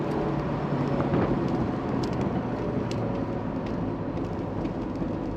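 Fiat Barchetta sports car driving along a winding road, a constant in-cabin drone of engine and road noise with wind, fairly even in level throughout.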